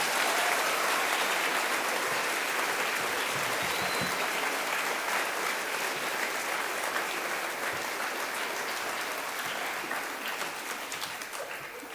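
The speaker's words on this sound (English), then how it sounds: "Can we get one more round of applause for the boys?" A school assembly audience applauds the boys at a NAIDOC Week gathering, a sustained, even roar of many hands clapping in a large hall, steady for most of its length before easing slightly at the close.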